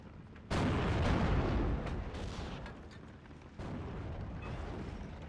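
A mortar carrier fires in the World War II strategy game Steel Division: Normandy 44, giving two heavy booming blasts with rumbling decay, loud and close, without speech.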